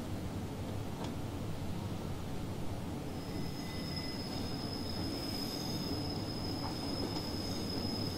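BR218 diesel-hauled train arriving at Hamburg Hauptbahnhof in a railway simulator, with steady loud rolling rumble and a thin, sustained high wheel squeal that builds midway and persists to the end.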